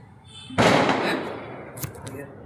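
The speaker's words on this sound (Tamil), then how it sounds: "பட்டாசு வெடிக்கிறாங்களா" Firecrackers going off nearby, one sudden sharp burst that trails into a crackling decay, with a faint smaller pop shortly after.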